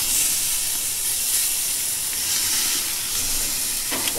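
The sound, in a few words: sous vide tri-tip steak sizzling on a pellet grill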